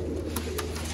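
Pigeons in a fancier's loft or setup coo steadily, with soft rustling and movement sounds close by, no talking.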